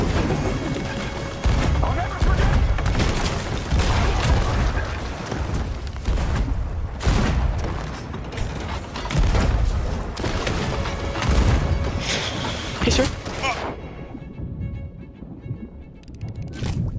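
Repeated heavy booms of ship cannon fire during a naval fight in Sea of Thieves, loud and close, several blasts in quick succession over about twelve seconds, then tapering off amid lighter clatter.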